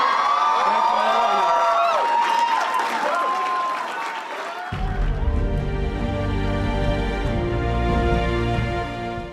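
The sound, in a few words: crowd applause and cheering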